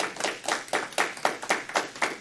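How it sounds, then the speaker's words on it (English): Rhythmic hand clapping at a city planning and zoning commission meeting, about nine even claps in quick succession, close and distinct, with no voices. "hold down the applause this evening."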